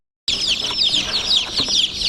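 Many young chicks, including young roosters, chirp and peep continuously in a dense, high-pitched chorus, close by, with occasional soft rustling below.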